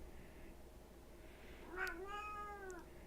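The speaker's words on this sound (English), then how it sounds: "That's Ringo, everybody. Ringo the cat." A domestic cat gives one drawn-out, rising-and-falling meow, moderately close but fairly soft, over a steady low background hum with no talking.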